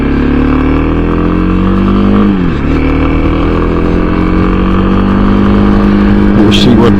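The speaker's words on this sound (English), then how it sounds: "The engine makes a lot of noise, so that could be part of it." A vehicle engine drones loudly and steadily while driving, with a low harmonic hum that dips briefly as the engine shifts and then holds, mixed with wind noise and a person talking.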